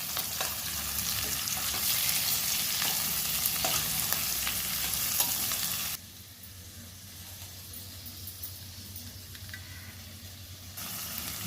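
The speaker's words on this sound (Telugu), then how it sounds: "ముల్లంగి, బెండకాయ ముక్కలు వేస్తున్నాను. బాగా వేయించాలి." Radish and okra pieces fry in hot oil with a steady, loud sizzle, then the hiss drops abruptly to a softer crackle before swelling again near the end; no voices.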